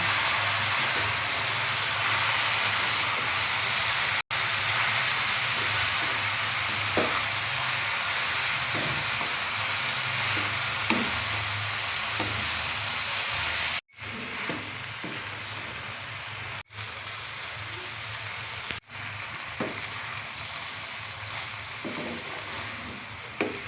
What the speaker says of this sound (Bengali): আমার সবজি ভাজা শেষ।